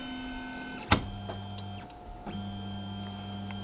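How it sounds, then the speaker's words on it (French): Tevo Tornado 3D printer homing its axes, steady tonal stepper-motor whine with a sharp click near the start and brief pauses as the motion changes direction, close and alone. "je fais Auto Home. Alors, l'imprimante devrait faire son home en plein centre."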